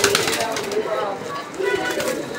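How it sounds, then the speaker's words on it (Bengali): A pair of Lahori pigeons, a silver female and a black male, coo softly in a pigeon loft under steady background noise and nearby voices. "আমরা এই মুহূর্তে যে জোড়াটি আপনাদেরকে দেখাচ্ছি, এটা লাহোরি কবুতরেরই একটা জোড়া।"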